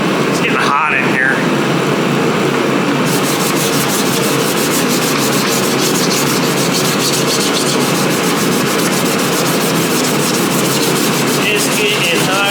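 Sanding guide coat off car bodywork before primer produces a continuous loud, close rasping scrub that holds steady throughout, with a brief faint whine early on.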